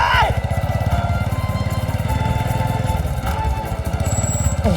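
A motorcycle with faulty brakes runs with a steady, loud, rapidly pulsing engine drone throughout, heard close and continuous.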